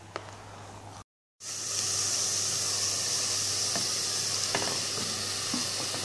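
Onions frying in ghee until browned, a steady bright sizzle that starts after a brief silent gap and continues loud and unbroken, with occasional small pops and stirring sounds.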